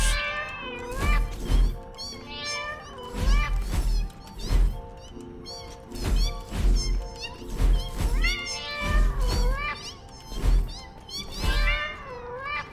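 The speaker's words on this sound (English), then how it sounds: "We have hologram cats." Hologram cats in the Satisfactory video game's arachnophobia mode meow repeatedly, a steady series of close, loud, drawn-out meows and yowls spaced about a second apart, with no voices.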